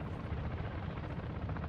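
A helicopter in the DMZ video game thumps overhead, its rotor chop loud and steady through a brief burst.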